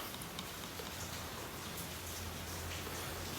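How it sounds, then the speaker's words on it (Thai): Rain falls outside in a steady, soft hiss of drops, faint and even throughout with no voices. "ฝนตกนอนสบาย"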